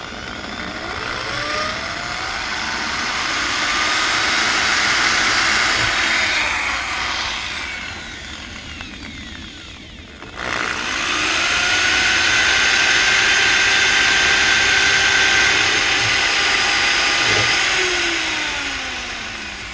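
A power drill with a 1/8 inch bit drills out the factory rivets on a Honda S2000 pedal, whining loudly and continuously, dropping briefly midway, then resuming.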